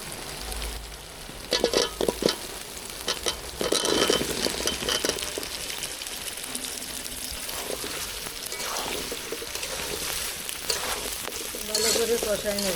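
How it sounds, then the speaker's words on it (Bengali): Potatoes frying in spices for aloo dum, a dense continuous sizzle close up with bursts of louder crackling and stirring, no voices. "আমার মশলা কষানো হয়ে গেছে, এবারে ধুয়ে রাখা আলুগুলি দিয়ে দেব"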